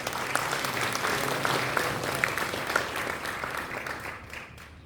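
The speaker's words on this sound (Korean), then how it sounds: "힘차게 박수 한번 부탁드립니다." Congregation applause fills a church hall during a national men's evangelism association general assembly, a steady dense crowd clapping that holds for several seconds before slowly thinning toward the end.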